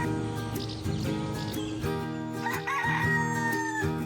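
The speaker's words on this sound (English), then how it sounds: "A rooster is a daddy chicken. There's a rooster." A rooster crows amid bouncy music, a clear, drawn-out cock-a-doodle-doo rising near the middle and fading over the accompaniment, with no voices.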